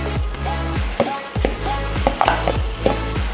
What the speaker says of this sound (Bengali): এইবার এর মধ্যে যে বাটা ডালটা দিয়ে দিচ্ছি।